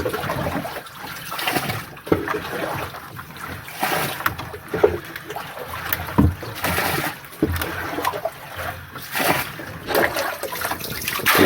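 Water sloshes and splashes steadily around a small boat carrying fish, with repeated sharp splashing bursts over a continuous wet churning, fairly close and moderately loud.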